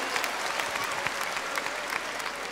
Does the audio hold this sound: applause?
yes